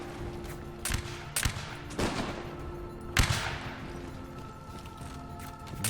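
Musket shots ring out in a Warband mod battle, about four sharp cracks spaced unevenly over a low steady ambience, a couple of them louder and nearer.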